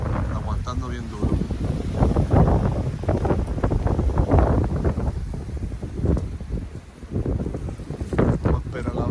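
Strong wind gusts buff and roar against a hot tent during backyard camping, loud and uneven with rumbling surges that swell and fade, close to the microphone.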